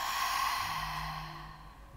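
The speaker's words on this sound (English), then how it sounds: "Exhale through your mouth." A long exhale through the mouth during a yin yoga class, a breathy, sighing rush of air close to the microphone that gradually fades over about two seconds.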